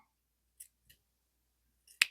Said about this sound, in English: I'm just going to take my scissors and I'm just going to cut in down the middle